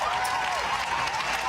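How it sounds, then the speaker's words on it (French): A live-show audience gives sustained applause, a steady dense wash of clapping with a voice faintly over it. "vous vous applaudissez"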